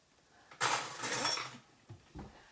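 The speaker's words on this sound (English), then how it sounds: "I'm gonna mix it all up together" A utensil scrapes and clinks in a pan while food is tossed with sauce and spinach on a propane stove in a tiny house, a loud one-second stir followed by two short knocks.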